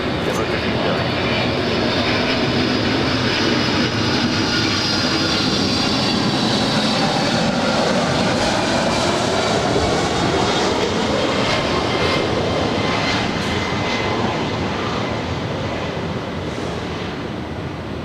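Jet airliner taking off from runway 24 left at Los Angeles airport, a loud continuous roar of engines at full power that builds and holds with a slowly shifting whine.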